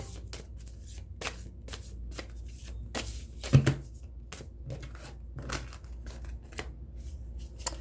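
Tarot cards being shuffled by hand, a close and fairly quiet run of rapid riffling slaps and flicks with repeated bursts, no voice heard.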